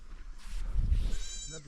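A goat bleats near the end of a short outdoor stretch with a Tibetan nomad's herd, a dog chasing it, a wavering cry rising over low rumbling wind and handling noise.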